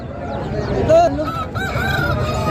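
An Aseel fighting rooster crows loudly and close by at a busy poultry market, its long call rising over a steady murmur of crowd noise and background voices.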